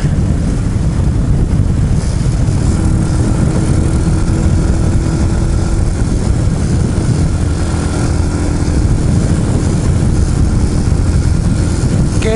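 A Honda-style RPS Hawk 250 motorcycle engine runs steadily in fourth gear at about 4,500 RPM and 38 mph, a continuous loud drone with wind rush throughout.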